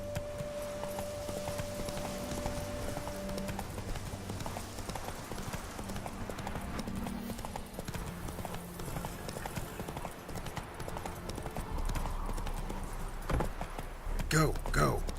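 Roach the horse from The Witcher 3 gallops with steady, fast clip-clop hoofbeats, close and loud, under in-game music and a voice talking.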